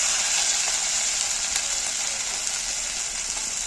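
A paste of ground poppy seeds and cashews with a little turmeric sizzles steadily in a hot pan for prawn malai curry, a continuous, even hiss with faint stirring clicks and no voices.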